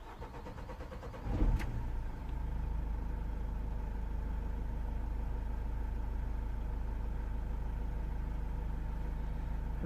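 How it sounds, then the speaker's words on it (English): A Vauxhall Vivaro 2.0 CDTi diesel van engine with a hard-starting fault cranks briefly and then catches, settling into a steady, loud idle rumble that continues to the end. "let's gonna crank the engine and see what we have."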